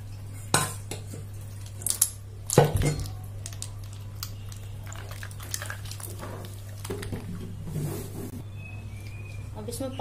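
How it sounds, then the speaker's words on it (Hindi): Ice is added to a bowl of homemade butter in a home kitchen: a few sharp clinks and clatters stand out against a quiet, steady hum, with soft handling noises between them. "अब इसमें जो हमने ये आइस लिया है वो डालेंगे"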